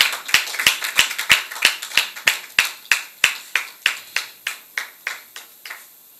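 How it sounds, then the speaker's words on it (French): Sharp, evenly spaced claps ring out in a steady rhythm, about twenty in all, as a studio audience welcomes a professor guest. The beat gradually slows and softens before stopping. "Sous vos applaudissements, s'il vous plaît."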